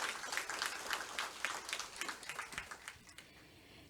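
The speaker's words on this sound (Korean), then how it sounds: "큰 박수 부탁드립니다." Audience at a public hearing on a special self-governing province applauding a speaker's introduction, a short, fairly quiet burst of scattered clapping that fades out near the end.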